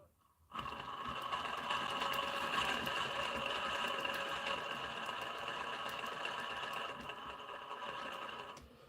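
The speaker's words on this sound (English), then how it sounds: "we're getting a bit of noise from that rear drive shaft because it's at full chat" An RC car's rear drive shaft whirs with a high, buzzing mechanical whine at full throttle, starting abruptly and holding steady and close for several seconds before cutting off.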